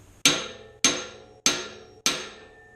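Four evenly spaced, sharp metallic hammer blows ring out close by as a hand-forged sleigh bell is driven down to seat it, each strike decaying quickly before the next.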